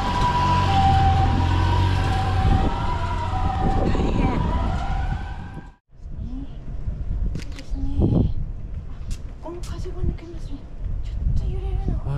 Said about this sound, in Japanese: うわ、もう救急車な